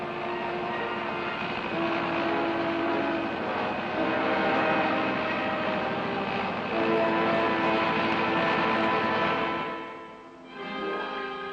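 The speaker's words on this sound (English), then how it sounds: "a helicopter bringing a rescue party lands as near to the location of the accident as the terrain will permit." Helicopter bringing a rescue party in to land near an avalanche accident site on rough mountain terrain, a loud steady engine and rotor roar that drops away near the end, no talk.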